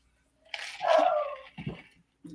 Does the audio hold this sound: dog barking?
yes